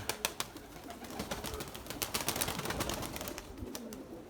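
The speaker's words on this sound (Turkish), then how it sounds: "Kurşun gibi maşallah kanat sesleri var." Erzurum white pigeons beat their wings in a rapid, irregular series of sharp flaps up close, with some soft cooing mixed in.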